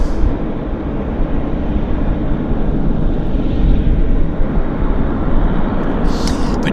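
A jet airliner, likely an A320-family plane, landing at Vancouver International Airport, heard as a steady, broad engine roar from across the field, loud and continuous with a slight swell midway.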